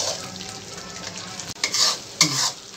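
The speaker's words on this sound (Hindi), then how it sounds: "अब इसको अच्छे से मिलाएंगे, इसको थोड़े देर और भुनेंगे ताकि दही अच्छे से इसमें मिल जाए" Curd and chicken masala stirred and fried in a pan, with a steady close sizzle and a couple of sharper scraping stirs near the end.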